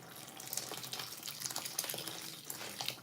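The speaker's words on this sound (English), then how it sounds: "I need to add water because I didn't put enough water last time" Water pours into a cooking pot in a steady, soft splashing stream, fairly faint and close, with small clinks around it.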